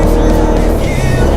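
An oncoming car and truck pass motorcycles on a night ride through Sampaloc, a loud, continuous roar of engines and rushing wind close by, with no talk.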